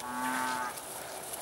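A young calf out in a field for spring gives one clear, drawn-out moo up close, followed by open outdoor ambience.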